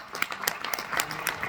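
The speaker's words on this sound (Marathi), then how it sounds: "आणि खरंच ह्या 2 जोडीसाठी एकदा जोरदार टाळ्या झाल्या पाहिजे" An audience at an AWPL event gives a short burst of scattered hand clapping at moderate volume. A faint voice sits in the background.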